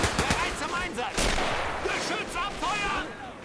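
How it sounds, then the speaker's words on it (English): Gunfire in the World War II strategy game Men of War: Assault Squad 2, defending Foy in the Battle of the Bulge: dense overlapping shots and bursts from several weapons, a sustained loud barrage with sharp cracks throughout. "Lots of gunfire from here."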